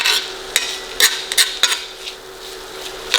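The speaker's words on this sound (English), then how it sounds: "And we can't forget to add our onions. And we're gonna let this cook" Onions cook in a pan, with a soft continuous sizzle under several sharp clinks and scrapes of a utensil against the pan.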